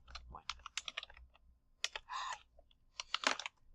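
Typing on a computer keyboard in short irregular bursts of crisp close clicks and key taps, with brief pauses between runs and one quick flurry of rapid strokes.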